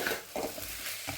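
Potatoes and onions fry with turmeric in a pan, a soft close sizzle broken by a few stirring scrapes, quiet and without speech.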